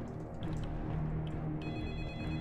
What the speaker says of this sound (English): Who's calling the phone?